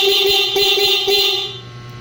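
Aftermarket loud horn fitted to a Suzuki Raider 150 carburetor motorcycle blares as a continuous, near, bright tone that fades slightly toward the end, over a low engine idle.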